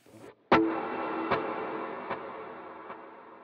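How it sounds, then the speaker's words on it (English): An electric guitar with dotted eighth delay and a cloud reverb strikes a note that blooms into a washy ambient swell, with fading delayed repeats pulsing at steady intervals beneath the lingering haze, no voices. "And then I'm adding in a cloud reverb."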